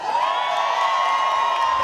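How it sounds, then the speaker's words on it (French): Comedy festival audience at Alma cheering and applauding, a loud, continuous wash of clapping with shouts and whoops, crowded and sustained throughout. "Donnez-vous une bonne main d'applaudissements pour vrai"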